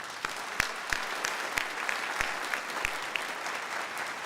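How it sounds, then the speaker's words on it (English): A crowd claps steadily at a college pinning ceremony, sharp individual claps standing out over a dense wash of applause, moderately loud and continuous. "Can we give them a big round of applause?"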